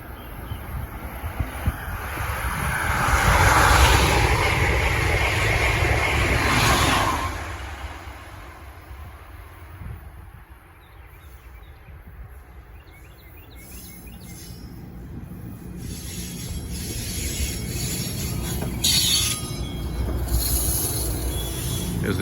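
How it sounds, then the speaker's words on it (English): The Amtrak Acela Express rushes northbound through Princeton Junction station with a loud roaring whoosh that peaks early and fades, then leaves a steadier rumble of wheels on track. "Coming northbound is the Acela Express again."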